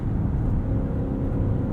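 A 2021 Maserati SUV held on the brake with launch control engaged as its turbos spool up, giving a steady, close, low engine drone with no voices.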